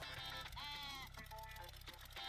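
Sheep bleating in Warcraft 3 Wizards 4, a few short wavering bleats over steady game music and background noise, fairly faint.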